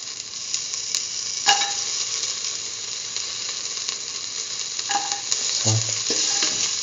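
Garlic sautés in a hot pan with a steady, close crackling sizzle, punctuated by a few scraping stirs and spoon clicks, with no talking.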